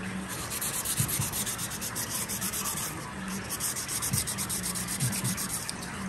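Emery cloth is worked back and forth against a metal connecting rod bearing, making a close, rhythmic scratchy rubbing with repeated strokes and no talk.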